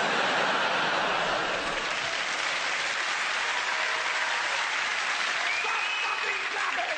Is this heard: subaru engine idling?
no